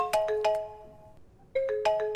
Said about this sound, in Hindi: Some bad guy is calling.